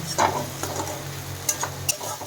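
Tomato and capsicum frying in a pan with ginger and cumin paste and a little salt, a close, moderate sizzle with a few stirring scrapes and clicks over a short stretch.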